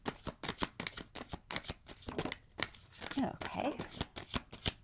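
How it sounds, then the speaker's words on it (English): Tarot cards being shuffled by hand, a rapid run of crisp riffling snaps and slides repeating in bursts, close up, with a voice speaking softly over part of it. "shuffling is hard"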